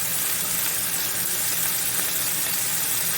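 Burger patties searing in a hot pan on a stovetop give off a steady, dense sizzle that holds evenly throughout, close and continuous with no talking.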